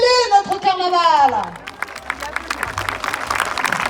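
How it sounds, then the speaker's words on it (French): Outdoor carnival crowd at the Saubusse Carnaval applauding, preceded by a loud sustained voice; after about 1.5 seconds a dense, steady patter of many hands clapping continues with some chatter underneath. "Applaudissez-le, notre carnaval!"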